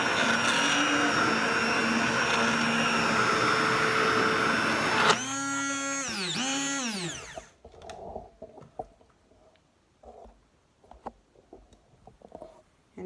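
An immersion hand blender, a Keylitos 5-in-1 12-speed model, whirs loudly and steadily while blending food, its pitch swooping up and down briefly before cutting off, followed by quiet clinks and handling sounds.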